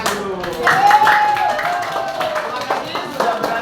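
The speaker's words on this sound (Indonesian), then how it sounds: "Sebelum itu kita beri tepuk tangan dulu." An audience gives a presenter a round of applause in a classroom, a brief burst of clapping heard nearby while a voice speaks over it.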